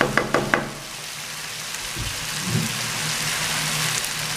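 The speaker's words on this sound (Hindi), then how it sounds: "अब मैं इसमें कर दूंगा पानी शामिल।" Water pours steadily into a cooking pot of mutton paya after the spiced ghee has been fried, a continuous splashing hiss following a few sharp knocks at the start, close and fairly loud.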